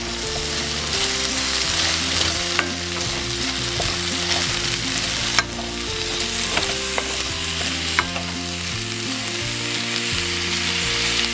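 Potatoes frying in a pan for beef picadillo, a constant loud sizzle with occasional stirring scrapes and a few sharp clinks, under a steady background tone with no talking.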